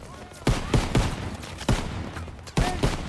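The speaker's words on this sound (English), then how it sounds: "Run across this open area with lots of enemies to shoot at who are shooting at me." Enemy gunfire in the World War II shooter Call of Duty: WWII, with sharp rifle and machine-gun shots cracking in irregular bursts across an open battlefield, some close and loud, others farther off, without speech.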